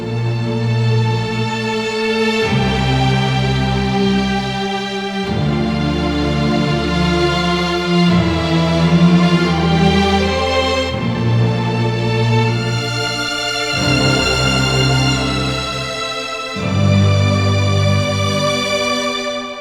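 Trailer-style string arrangement of layered violins, celli and basses playing sustained, full chords that change every couple of seconds, loud and continuous, with no talking.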